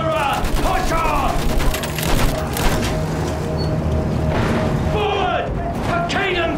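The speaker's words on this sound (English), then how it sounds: "Use that machine gun." Sustained machine gun fire mixed with booms and battlefield commotion in a World War I trench fight in Battlefield 1, dense and loud, with shouted voices cutting in over the gunfire.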